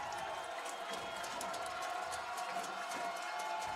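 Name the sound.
football crowd making noise in Bethany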